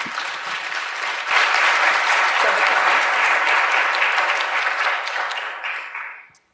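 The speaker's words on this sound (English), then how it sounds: "So big round of applause for Samantha" Loud, sustained audience applause for a speaker at a company leadership talk, swelling sharply after a moment, holding steady as a dense crowd of claps, then fading out at the end.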